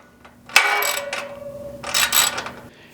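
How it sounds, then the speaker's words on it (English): A 13mm socket wrench tightening a bolt on a HappyJapan embroidery machine stand gives two close bursts of ratcheting clicks and metallic rattling, separated by a brief pause, with no voices. "start tightening this down with our 13mm socket wrench"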